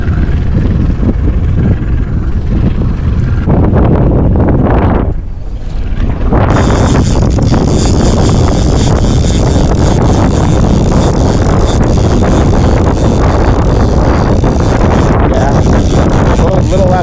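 Strong wind gusting across Strawberry Reservoir during a day of trolling and shore fishing, a loud, steady roar buffeting the microphone almost throughout, with a brief lull partway before it surges back.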